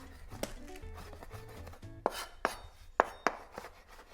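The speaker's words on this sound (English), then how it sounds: "let's just chop up our oregano" A knife chops fresh oregano on a board, giving a run of sharp, distinct taps with uneven spacing, and a few louder strikes come later on. The sound is close and quiet, and nobody speaks.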